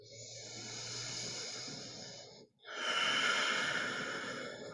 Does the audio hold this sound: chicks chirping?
no